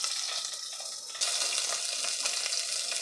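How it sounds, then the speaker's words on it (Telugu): Whole green chillies and medium onion frying in a pan, a steady bright sizzle with a soft clink partway through, close and continuous, no speech. "అలాగే చిన్న మీడియం సైజు ఆనియన్ని కూడా వేసుకొని కొద్దిగా ఫ్రై చేసుకోవాలి."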